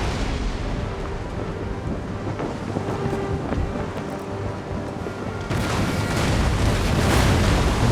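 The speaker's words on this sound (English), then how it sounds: "More grape shots, they almost have no more population left on the ship" Naval battle in a Total War strategy game, with cannons firing grapeshot at an enemy ship: a continuous rumbling roar of booms and wind-like noise that swells louder near the end.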